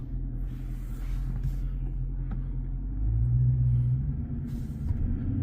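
A 2023 Chrysler 300C with the 6.4 HEMI V8 in sport mode, its exhaust giving a low steady rumble from inside the car while driving at night, swelling a little louder partway through.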